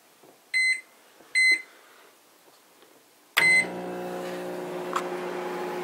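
A microwave oven heating ramen gives two short electronic beeps, then a louder beep as it starts, followed by a steady loud hum of the running oven with faint clicks, close by and with no talking.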